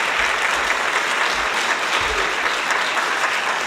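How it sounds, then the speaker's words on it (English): Sustained applause from a large audience at a parliamentary closing session in Batumi, Georgia, a dense, even roar of many hands clapping with no talk over it. "So I guess people should applaud to these people."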